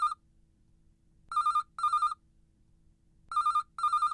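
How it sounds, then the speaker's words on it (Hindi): A telephone rings in two pairs of loud, bright double bursts, separated by a short silence, with no voices over it. "सेठ जी का फोन है।"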